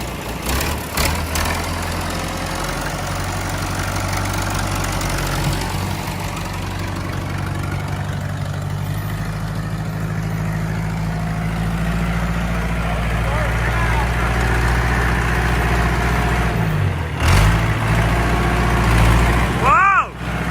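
A massive old tractor engine idles loudly and steadily with a deep heavy rumble, the pitch briefly dipping near the end, while people talk over it.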